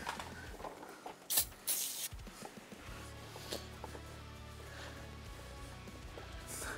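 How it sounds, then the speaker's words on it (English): An aerosol can of Summit Racing all-purpose cleaner sprays a brake caliper during a Jeep Gladiator big brake upgrade. There are two short, sharp hissing bursts close by, followed by a quieter low hum and faint rustling. "A can of our Summit Racing all-purpose cleaner."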